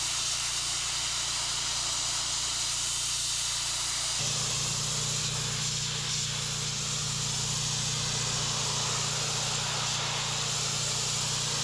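A pressure washer fitted with a gentle low-pressure fan nozzle hisses loudly and steadily while cleaning moss off a driveway, the spray growing louder partway through, with no talk.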